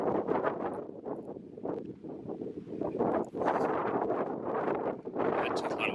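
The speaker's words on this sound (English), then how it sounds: "very windy." Strong wind buffets the microphone during a ride through Ceredigion, Wales, a loud, close, continuous gusting roar that rises and falls throughout.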